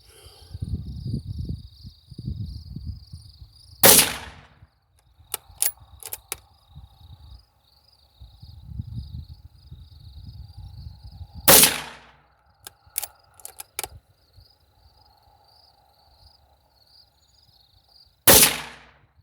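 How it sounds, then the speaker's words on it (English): Three sharp .22 WMR rifle shots crack out several seconds apart, each loud and abrupt, with quieter outdoor noise, insects and faint low voices in between. "We're going to shoot 3 rounds here just to see what it looks like."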